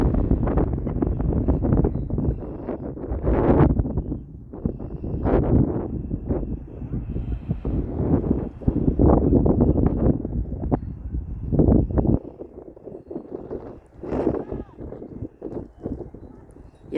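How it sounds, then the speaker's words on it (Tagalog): Heavy wind buffets the microphone in loud, gusty bursts near trees by a school playground, with a voice talking through the roar. "Pero malakas ang hangin, oh."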